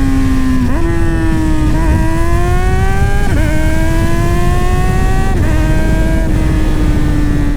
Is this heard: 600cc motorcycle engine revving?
yes